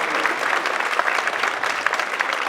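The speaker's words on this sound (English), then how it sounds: "give them a round of applause" Audience clapping for a school jazz band at a middle school winter band concert, a steady dense round of applause close by that fills the whole moment without speech.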